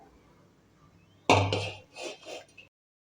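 A cooking pot of vegetable pulao set down on a hot griddle on the stove: one sharp metallic clank after a quiet stretch, then a few softer scraping clinks before silence.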